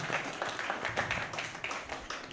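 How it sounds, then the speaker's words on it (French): Conference audience applauds the mayor, a steady moderate patter of many hands clapping continuously, slightly distant and without voices on top. "Il faut applaudir le maire."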